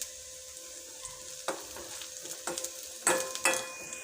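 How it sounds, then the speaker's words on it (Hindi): Carrot halwa roasting in a pan, soft continuous frying sizzle with scattered scrapes and clinks from stirring, quiet and close. "दूसरी तरफ हलवा जो है उसकी भी भुनाई हो रही है।"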